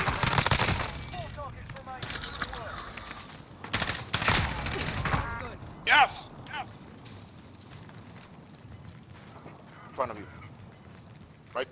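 Gunfire rattles through a Call of Duty: Modern Warfare match, bursts of rapid shots clustered early then thinning to scattered single cracks, with players talking over much of it.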